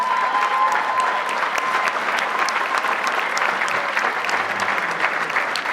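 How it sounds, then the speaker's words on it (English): An audience at a gala claps steadily, producing dense, even applause that carries on for several seconds without letting up. "Give him a clap."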